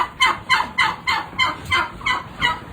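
Turkeys of Big 6 and bronze breeds on a farm in Samarkand region gobble in a rapid series of about eight rhythmic, warbling calls, fairly close and loud, with no talk.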